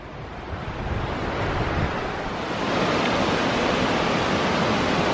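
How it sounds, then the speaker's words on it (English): Laurel Fork Falls on the Appalachian Trail, a steady broad roar of falling water that swells slightly louder midway and stays constant, heard alone without voices. "The Laurel Fork waterfall."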